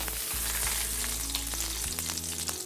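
Ghee melting and sizzling in a hot pan for Ramadan thari kanji, a dense crackling fry with scattered sharp pops and a low steady rumble underneath, heard alone.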